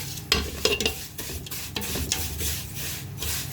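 A spoon stirs and scrapes through sizzling blended lentils in a pan, with intermittent scraping strokes over a continuous fry, close up and no talking.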